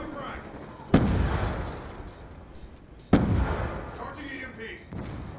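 Two close, loud grenade blasts in a Call of Duty Black Ops 2 multiplayer match, each a sharp crack trailing into a rumbling decay, about two seconds apart, with players talking around them.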